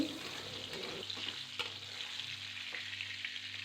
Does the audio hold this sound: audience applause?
no